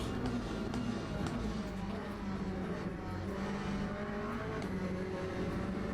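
Race cars in the Le Mans Ultimate sim racing game, including a Corvette and a Mercedes, in a ranked race: a loud, steady engine drone that runs continuously throughout.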